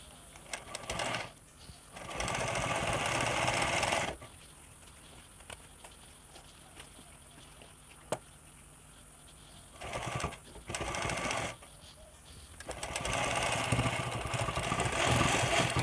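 A sewing machine stitches elastic onto a pair of pants, running in several loud, steady bursts separated by quiet pauses, with no talking.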